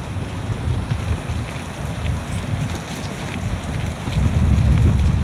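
Rushing waterfall water roars in a steady, dense broadband wash with gusty wind buffeting the microphone, growing louder toward the end, with no voices.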